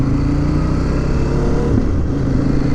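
A 2025 CFMOTO 800 MT-X adventure motorcycle accelerates hard, its engine a loud, continuous, rising drone close to the microphone with no voices.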